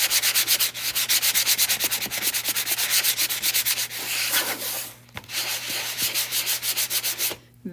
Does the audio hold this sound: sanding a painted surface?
yes